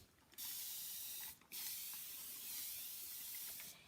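Paint sprayed onto a mini trumeau mirror, heard as two close, steady aerosol hisses separated by a short pause, with no talk.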